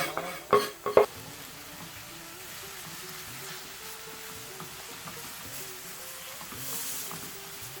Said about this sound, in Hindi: जिंजर गार्लिक के बाद अब जाए प्याज